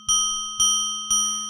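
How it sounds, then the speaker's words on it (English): Arturia MicroFreak synth patch voiced as a finger cymbal: three bright metallic pings evenly spaced about half a second apart, each sharp strike ringing on briefly with a steady shimmering tone, alone and close. "Now if you want kind of a more kind of finger cymbal type sound"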